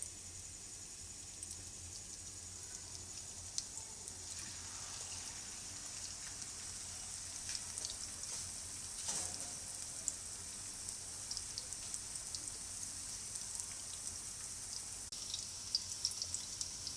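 Large Peshawari-style beef chapli kababs fry four at a time in oil over medium heat, making a soft, constant hiss with scattered faint crackles that stays even across the whole stretch.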